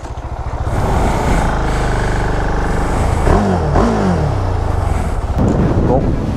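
A KTM Duke 690 motorcycle engine revs loudly up and down nearby, rumbling throughout with rising and falling whines.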